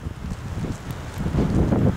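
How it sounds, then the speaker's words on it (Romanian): Mountain wind starts blowing near a railway tunnel leading to a viaduct as snow begins to fall, a rough, low rushing gust that buffets the microphone and swells louder toward the end. "A început să bată vântul."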